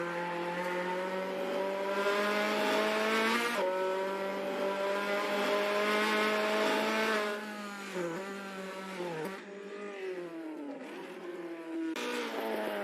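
A Datsun 510 race car laps in a racing video game, its engine holding a loud, steady drone. Pitch drops at several gear changes and braking points, with faint tire noise and no talking.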